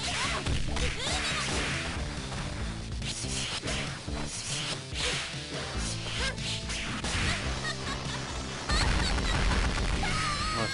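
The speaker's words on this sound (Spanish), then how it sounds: "Está tragando todos los latigazos" Whip lashes struck during a KOF 2000 fight, sharp cracks and swishes layered in a dense, busy mix of game music and hit effects, fast and repeated throughout.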